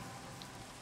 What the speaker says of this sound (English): It's raining at least.